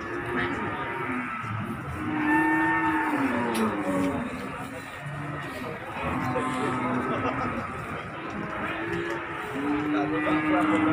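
Jumbo cattle moo in long, low calls that rise and fall over a steady background of voices and motor noise at a livestock market as they are unloaded from a truck.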